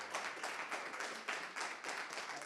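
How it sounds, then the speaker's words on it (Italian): A small crowd applauds to welcome Alberto Stefani, newly elected president of the Veneto region, with steady, moderately faint clapping in uneven bursts continuing throughout. "È un applauso quello che accoglie Alberto Stefani, neoeletto presidente del Veneto"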